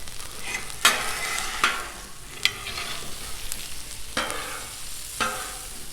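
Filet mignon sears on a Blackstone flat-top griddle, a steady close sizzle punctuated by several sharp spatula scrapes and clacks as the steaks are flipped.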